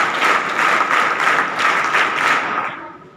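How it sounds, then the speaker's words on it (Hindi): An audience claps warmly for a group of students at a school Constitution Day program in India, a dense burst of applause with rhythmic swells that fades out over the last second. "बड़ी ताली ग्रुप।"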